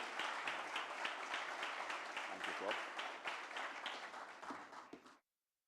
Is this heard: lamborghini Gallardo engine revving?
no